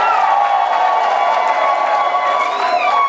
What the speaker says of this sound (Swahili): Piga makofi kwake.